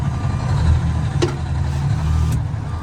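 A fire ladder truck's large engine idles with a steady low rumble close by, broken by a couple of brief metallic clicks.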